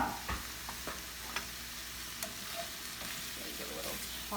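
Low-carb Philly cheesesteak filling sizzles over medium heat in a pan, with a steady frying hiss broken by several clattering stirs and tosses of the food.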